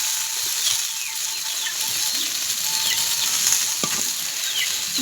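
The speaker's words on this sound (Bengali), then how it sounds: "এখানে আমি লাল লাল করে ভেজে নেব" Cauliflower fries in a pan with a steady, dense sizzle throughout, occasional faint scrape of stirring, no voices.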